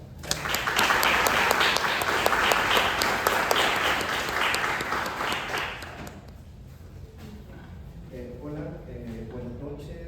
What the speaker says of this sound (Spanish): que recibimos con un aplauso.